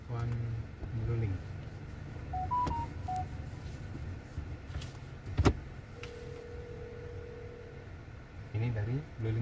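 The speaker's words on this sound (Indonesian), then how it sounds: "Kita coba telepon Luling." Short telephone keypad beeps and a sustained ringing tone sound inside a Hyundai Creta as a BlueLink call is placed, faint under cabin hum, with people talking nearby.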